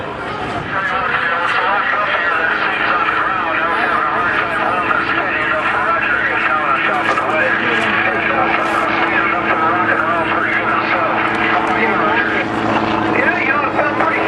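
A Stearman biplane's engine drones loud and unbroken while flying through turbulence, with someone talking over it throughout.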